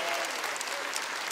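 A church congregation breaks into dense, even applause, a continuous wash of many hands clapping together for the whole brief moment.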